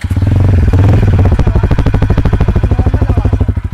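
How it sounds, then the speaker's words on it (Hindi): A TVS Apache RTR 160 4V motorcycle's stock exhaust starts up close and loud, settling straight into a steady, rapid single-cylinder idle thump with no talking. "अभी इसका एग्जॉस्ट को हम स्टार्ट करते हैं।"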